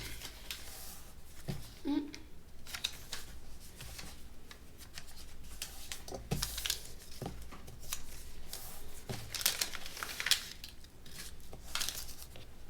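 Recycled paper strips are folded and creased for a woven basket, giving soft, close rustling and crinkling with brief papery taps scattered through, over a faint steady room hiss.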